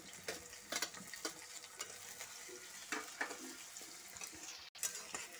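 Chopped onion fries in oil for a Bengali pabda fish curry. The sizzle is soft and continuous, with occasional clinks and scrapes from stirring in the pan.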